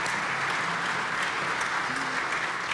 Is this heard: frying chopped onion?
no